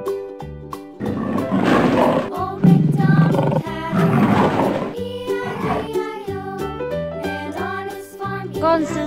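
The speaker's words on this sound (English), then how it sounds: "Lion." A lion roars in several loud, rough bursts over a bright, jingly children's music background.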